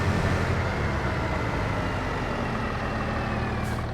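A worn engine of a purchased vehicle in Farming Simulator 25 rumbles at a steady, loud idle, a close, dense drone that holds without change and has no voices over it.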